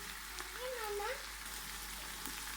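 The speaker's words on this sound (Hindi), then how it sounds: "अब हम इसको थोड़ी देर भूनते हैं।" Whole spices for beef pulao, including black cardamom, cinnamon, black pepper, cloves and cumin, fry in a pan with a faint, steady sizzling hiss, low and continuous throughout.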